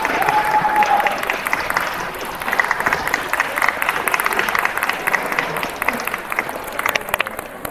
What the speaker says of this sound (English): Polite round of applause from everyone in the room there.